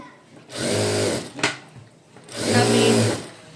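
A sewing machine stitching a puff sleeve's lining, two close, steady runs of rapid whirring separated by a short pause with a brief clack.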